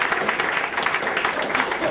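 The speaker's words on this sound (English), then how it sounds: "want to clap properly?" Seminar audience at a property investment talk gives a short, even burst of clapping, with a voice speaking over it.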